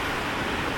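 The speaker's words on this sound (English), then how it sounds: "You can hear it's raining pretty good right now and thundering." Steady, dense broadband hiss of heavy rain falling outdoors beside a Bobcat 331 excavator, continuous and fairly loud with no clear thunder crack in this brief moment.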